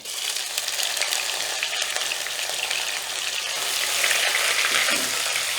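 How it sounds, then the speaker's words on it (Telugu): Onion paste fries in a pan with a loud, continuous hiss and crackle that swells slightly toward the end, with no voices over it. "సో ఇందులో మనం ఆడుకున్న ఉల్లిపాయ పేస్ట్ కూడా వేసేస్తున్నాను"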